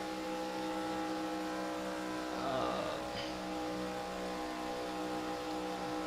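A NASCAR stock car at Talladega, number 98, runs on the track with a steady, distant engine roar; a brief swell passes midway, then the drone continues at moderate level.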